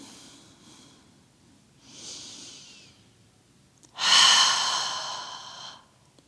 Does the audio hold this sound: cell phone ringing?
no